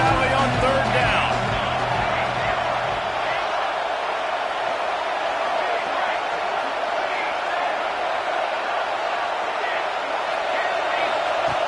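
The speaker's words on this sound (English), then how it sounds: "Here comes the noise from this big crowd in Happy Valley on 3rd down." A big college football crowd in Happy Valley against the Sooners roars steadily through a 3rd-down play, a dense, continuous wall of noise with a commentator talking over it.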